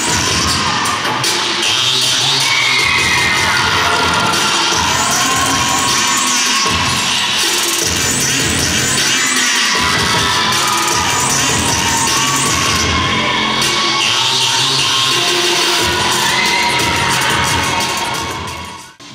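Packed stands of fans at a regional cheerleading competition, a loud continuous roar of cheering, shouting and whooping from a large crowd, with high children's voices throughout and occasional bangs, fading at the very end.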